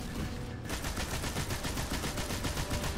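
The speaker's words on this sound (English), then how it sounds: "the enemies are shooting at me" Steady rapid gunfire from enemies in the video game Destiny during a Nightfall strike, a dense continuous rattle of shots loud and close throughout with no talking.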